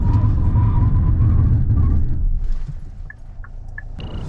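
Hyundai Staria Lounge van braking hard in a braking test. Loud, steady road and engine rumble fades after about two seconds as the van slows, leaving quieter rolling noise with a few brief tonal chirps near the end.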